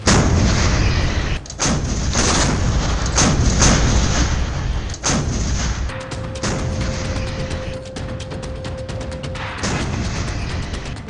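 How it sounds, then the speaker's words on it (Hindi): K9 Vajra and M777 howitzers of the Indian Army fire in a series of loud, booming blasts, several sharp reports with rumbling tails, and a steady tone running through the later part. "भारत को अभेद कवच पहनाने वाली तोप का डबल धमाका"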